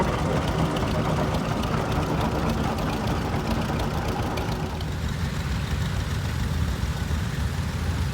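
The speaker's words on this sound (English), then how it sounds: "The next tractor is a 1928 Buckley Oil Pro, Model Double W, 2030 horsepower" A 1928 Buckley Oil Pull Model W tractor runs in a parade, its heavy engine giving a continuous low, rumbling drone with steady knocking, close and loud throughout.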